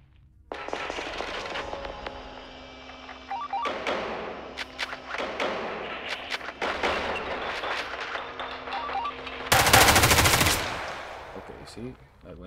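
Rapid gunfire in the Roblox game Hellmet, bursts of automatic shots rattling continuously at close range, with a louder, harsher blast of fire near the end.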